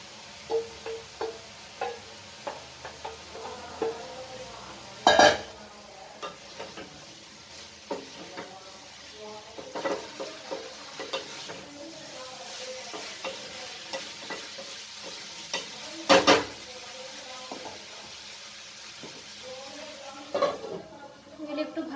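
Panch phoron spice mix sizzling in hot oil in a home kitchen pan, with soft continuous frying and repeated scraping stirs of a spoon, plus a couple of sharper utensil clanks against the pan.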